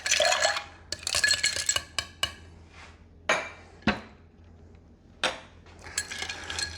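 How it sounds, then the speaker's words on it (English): Ice being added and stirred in a mixing glass for a La Louisianne cocktail, bursts of rattling cubes and sharp clinks with quieter pauses between, close and fairly faint. "Add some rocks because we're going to stir this."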